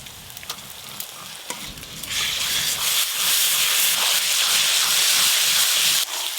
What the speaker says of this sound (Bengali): আদা রসুন বাটাটা পেঁয়াজের সঙ্গে ভালো করে ভেজে নেবো